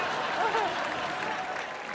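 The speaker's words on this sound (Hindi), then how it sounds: "जोरदार तालियां हो जाएं" A studio audience on a Hindi comedy entertainment show bursts into loud, sustained applause, a thick even roar of clapping with a brief whistle-like tone rising near the start.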